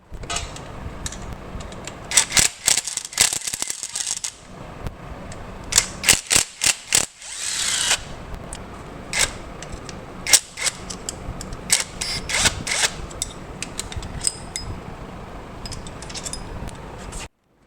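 A ratchet wrench works loose the engine motor mounts on a Polaris RZR, giving close, loud bursts of rapid clicking that start and stop repeatedly, with short pauses between turns.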